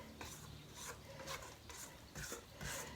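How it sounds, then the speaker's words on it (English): A spatula scraping around the sides of a mixing bowl of peanut butter and vanilla cookie-bar dough, heard as a series of close, soft rasping strokes in an irregular rhythm with no talking. "scraping down the sides."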